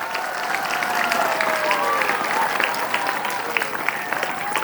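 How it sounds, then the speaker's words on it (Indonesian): Audience applause at an Islamic lecture gathering in 2023, a sustained dense clatter of many hands clapping at steady loudness, with a few faint cheers and whistle-like tones threaded through. "Tepuk tangan untuk orang-orang yang berjasa untuk kita"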